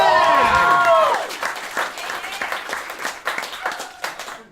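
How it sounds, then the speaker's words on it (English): Theatre audience at a live stage show applauding, starting with loud cheering and whoops that fade into steadier clapping over about four seconds. "Could you please give a big round of applause for the Jacqueline 6000?"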